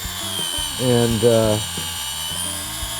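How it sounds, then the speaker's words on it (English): A small rotary drill whines while carving a window into putty on a scale model, rising into a louder, pitch-bending burst mid-clip, with a voice speaking alongside it. "This drill is a little bit faster, it would go a little faster."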